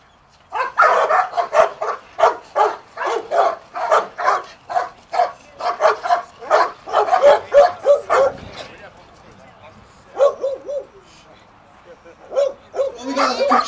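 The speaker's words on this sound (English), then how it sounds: "What we got is a controlled bark right there." A trained police K9 at a shootout event gives a controlled holding bark, a rapid run of loud, evenly spaced barks close by, pausing briefly before a few more, with a voice speaking in between.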